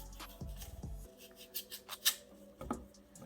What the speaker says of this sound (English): I'm just gonna cut it down. I'm gonna cut it in 3.